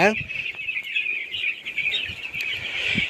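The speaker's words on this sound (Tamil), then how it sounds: "கோழிகள் எல்லாமே இந்த சைடு வந்துருச்சுங்க ஃப்ரெண்ட்ஸ்" Broiler chickens on a village farm give steady high clucks and chirps, many birds at once and fairly close, with a brief call standing out at the start.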